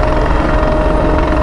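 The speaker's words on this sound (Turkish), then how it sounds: "tepemde bir sahil güvenlik helikopteri var." A coast guard helicopter roars steadily overhead above the Bosphorus, its loud, continuous rotor thrum filling the air with no break.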